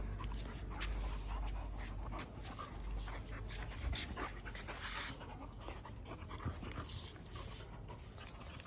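A dog pants rapidly and close up, letting out a few soft whimpers over the steady breathing, with no talking.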